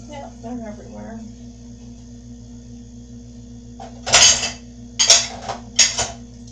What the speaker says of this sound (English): I'll just continue to fill up the dishwasher.